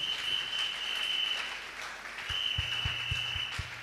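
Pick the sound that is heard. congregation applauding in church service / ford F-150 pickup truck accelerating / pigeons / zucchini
congregation applauding in church service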